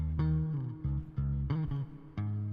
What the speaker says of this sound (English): It's actually not a bass, it's a guitar. I threw it through the 𝗕𝗘𝗠𝗘𝗥 and I transposed it down 12.